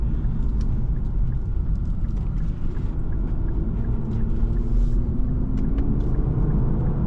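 A 2024 Infiniti Q50 Red Sport 400 AWD accelerates, heard from inside the cabin as a loud, steady low rumble. A rising engine tone climbs gradually beneath it.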